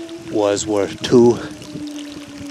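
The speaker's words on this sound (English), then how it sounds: "This water that's coming out here is obviously from one of the mines." Water drains from an old coal mine adit near Archbald, Pennsylvania, a soft pouring trickle running steadily beneath a person talking close by.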